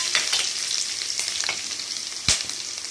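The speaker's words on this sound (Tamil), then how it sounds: "எண்ணெய் ஊற்றி வச்சுருக்கோம் இப்போ ஒரு பட்டை ஒரு கிராம்புக்கு ஒரு ஏலக்காய் போட்டிருக்கோம் இப்போ வந்து சின்ன சீரகம் போடுறோம்" Cinnamon, clove, cardamom, cumin and garlic frying in hot oil, a steady close, bright sizzle with a few sharp pops and crackles and no voices.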